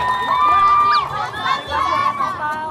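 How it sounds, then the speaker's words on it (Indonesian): A studio audience at a television show cheers and shouts with lively excitement, a dense, close crowd noise with bright voices rising above it, while one person speaks over the din. "Ini keren loh, kasih tepuk tangannya dong."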